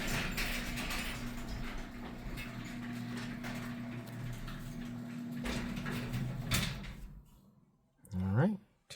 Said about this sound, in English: Let's open up this garage door